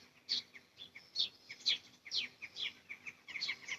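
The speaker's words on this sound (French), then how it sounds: "on entend bien les oiseaux" Small birds chirp and tweet outdoors during a morning live yoga class, with bright short calls repeating every half second or so, fairly faint and distant, with no talking over them.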